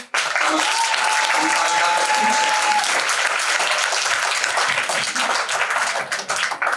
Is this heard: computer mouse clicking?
no